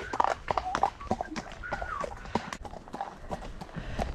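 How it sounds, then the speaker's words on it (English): An ex-racehorse out hacking, its hooves clip-clopping in a quick, uneven rhythm close by, with scattered thuds and rustling between the steps. "Do you fancy a little canter around this bit, Em?"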